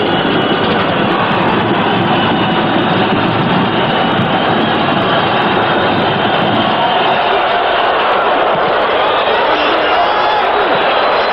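A capacity crowd fills Jack Murphy Stadium at the Holiday Bowl college football game between BYU and Washington State, a dense, loud, continuous roar with no distinct voices rising above it.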